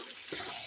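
Chicken is stirred and sautéed in a pan: one brief scrape of the spatula over a soft, close sizzle, with no talking.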